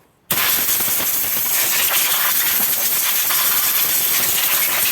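Compressed air blasts dust off a Motor Sich 475 chainsaw, a loud, steady hiss that starts abruptly after a brief silence and holds without a break.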